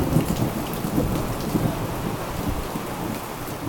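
Steady heavy rain pours down during a storm, a dense close hiss of drops hitting surfaces, with low rumbling thunder rolling underneath throughout.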